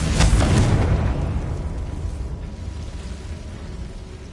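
A fire spell explosion in Hogwarts Legacy bursts loud and close at the start, then its roar decays into a long rumbling tail.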